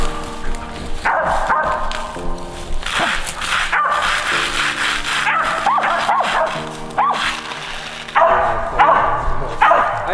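A feist squirrel dog at a UKC world hunt barks and yips at a squirrel it has treed, loud repeated bawling with whimpery breaks between barks, no talk over it.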